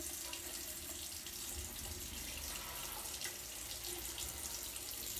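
Warm and cold tap water runs steadily into a bathroom sink, a continuous broadband rush with no pauses, fairly faint and with no talk.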